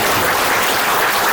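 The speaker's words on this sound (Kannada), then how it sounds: "ಎಲ್ಲರೂ ಒಂದ್ಸತಿ ಜೋರಾಗಿ ಚಪ್ಪಾಳೆ ಹೊಡ್ತಾರೆ" A short burst of dense audience clapping at a film song launch press meet, loud and continuous throughout with no voices over it.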